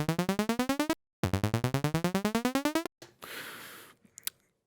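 A synth lead from Serum with a saw-shaped LFO chopping the oscillator level at 1/16 notes, giving fast rhythmic pulsing gated bursts in two rising runs, followed by a short noisy tail and clicks.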